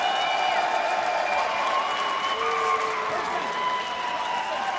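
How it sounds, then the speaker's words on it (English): A large crowd at a men's world boxing championship in Doha, 2015, roaring and applauding in a sustained, far-off wash of cheering that fills the arena without letup. "If you're hearing the big cheer"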